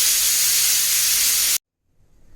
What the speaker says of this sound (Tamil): இப்போ ஊற வச்ச ரைஸை குக்கரில் வச்சுருக்கேன். இது 3 விசில்ஸ் வர வரைக்கும் நம்ம வச்சுருக்கணும்.